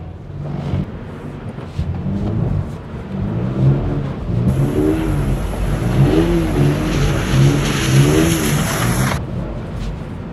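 A Toyota GR86 drifting on a track, its engine revving up and down in repeated rising and falling sweeps, fairly close and loud, with a high whine entering midway.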